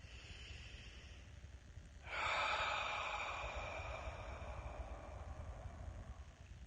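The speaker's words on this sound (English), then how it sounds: "Breathe in and breathe out slowly." A slow, deep breath drawn in and then let out, with a soft airy inhale followed by a louder, longer exhale that fades gradually, close and alone.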